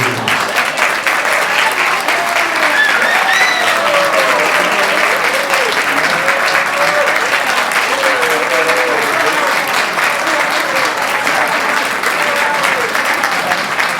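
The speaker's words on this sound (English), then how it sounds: "please stand up and let's have a round of applause for these amazing individuals" At a charter school gala marking its 20th anniversary, an audience applauds foundation board members with sustained, dense clapping that holds steady and loud throughout, with a few voices mixed in.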